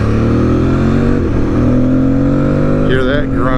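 A 2023 KTM 890 R or Tuareg 660 motorcycle engine revs close up with a loud, steady drone that holds, dips briefly and then climbs sharply in pitch at the end.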